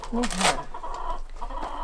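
Chickens cluck in short bursts nearby while a person speaks over them, the clucking brief and partly masked by the voice.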